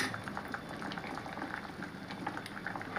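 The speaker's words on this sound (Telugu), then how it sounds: "క్యారెట్ ముక్కలు బాగా అయితే ఉడికినట్లనే ఉన్నాయండి" Carrot pieces boil in a pot of water with a continuous close bubbling and gurgling that stays even throughout.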